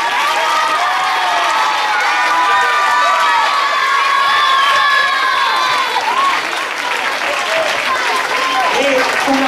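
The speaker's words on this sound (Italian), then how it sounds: "Io farei un applauso ad Aladdin, Ignazio." School audience at a primary-school Aladdin show clapping steadily and loudly, mixed with children's cheers and shouts and overlapping voices throughout.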